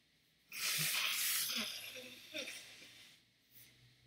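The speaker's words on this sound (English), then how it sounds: "Let me blow my nose real quick" A person blows their nose once, a loud, close, breathy burst lasting about a second that tails off, followed by a few sniffs and small noises.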